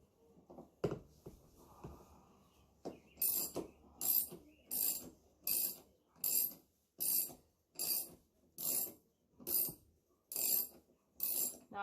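A ratchet socket wrench backing out refrigerator door hinge bolts, clicking in a steady series of about ten sharp bursts, close and fairly quiet, after a few initial knocks.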